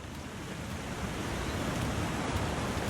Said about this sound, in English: There's a waterfall here, by the way, if you can't tell.